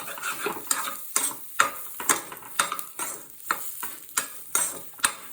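Chicken pepper dry is stirred in a pan over low flame, with about a dozen evenly spaced scraping strokes of a utensil against the metal, close and rhythmic, over a light sizzle.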